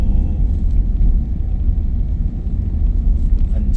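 A car in third gear descends a winding mountain road near Bedugul, its engine a steady, loud low rumble with road noise and no talking.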